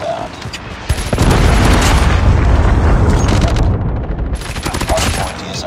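A predator missile strike in a Call of Duty–style shooter, with a loud, sustained rumbling blast and heavy crackling debris that fills most of the clip. Dense gunfire-like impacts run under it.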